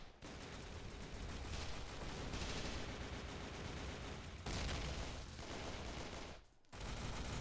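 Dense, sustained gunfire from the shooter Repulse fills the scene almost nonstop, loud and close, with two brief drops near the middle and the end before the shooting resumes.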